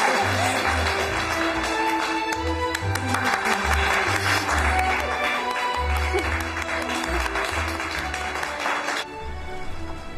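Sustained applause from a small crowd at a village ceremony appointing a school principal, a dense, loud patter of clapping for about nine seconds over a low rhythmic hum, ending abruptly.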